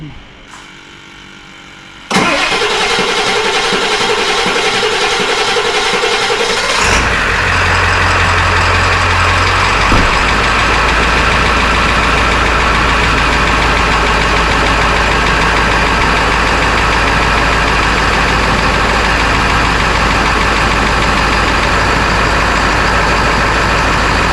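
A 2000 Ford F350 with a 7.3 diesel engine cranks briefly, then fires up into a loud, steady, clattering idle that continues close by for the rest of the clip.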